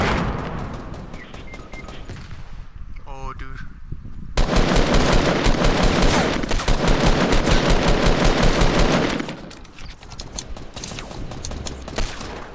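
Fortnite gunfire in a video game match: a loud, dense automatic burst that runs for several seconds, with scattered single shots and mechanical clicks around it and quieter gaps before and after.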